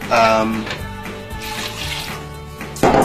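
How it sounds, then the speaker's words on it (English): Water pours steadily into a cooking pot holding ox tongue while making oha soup, a loud continuous rushing splash that swells again at the end, with a voice speaking over it. "So make sure you're covering it with water."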